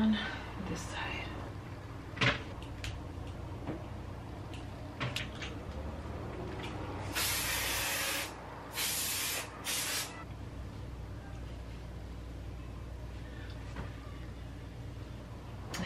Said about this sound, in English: Hit it with a little bit of volume spray.